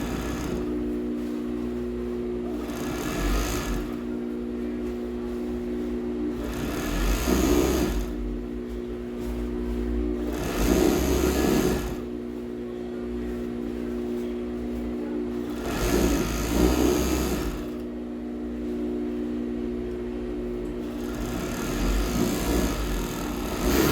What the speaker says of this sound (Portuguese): Overlock agora na costura central, né, das costas